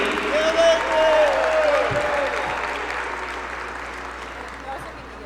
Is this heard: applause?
yes